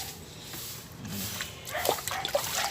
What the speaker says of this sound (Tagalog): At saka lagyan po natin muna ng tubig.